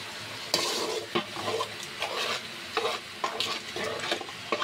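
Beef pieces sizzling in an oil-rich, spiced masala cooked down for bhuna khichuri, with a spoon scraping and stirring the pot in irregular bursts over a constant frying hiss.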